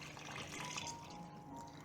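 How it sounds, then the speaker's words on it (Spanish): Water pours steadily into a pot of kumquats on a stove, a continuous soft trickling stream that stays even from start to finish with no talk over it. "Vamos a poner un poco más de agua"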